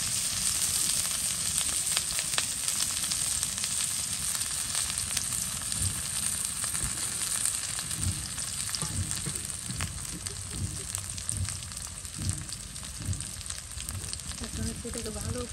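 Spices frying in a pan make a steady, dense sizzle that holds at an even level the whole way through, with soft clinks and scrapes of stirring breaking out now and then.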